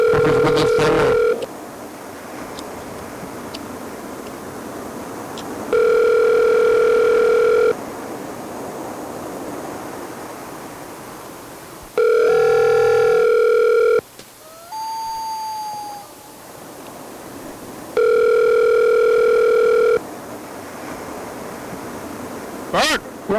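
Outgoing phone call ringback, a steady tone in repeated two-second bursts separated by silent gaps, with a brief squeaky chirp in one pause; clear and close, no talk over it.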